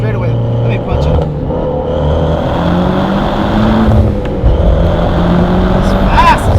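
A 2008 Mitsubishi Evo X running on E85 accelerating hard from inside the cabin, with the engine droning and rising in pitch through the gears and loud road roar throughout.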